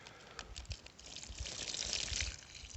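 Water is poured from a container onto permeable soil around a young fruit tree, a close, splashy gush that swells and sloshes, heard alone.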